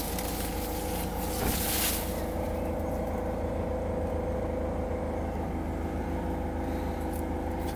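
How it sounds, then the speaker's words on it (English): A car engine idles steadily in the background at an outdoor allotment garden, a continuous low rumble that stays constant throughout with no talking. "Nice car engine there."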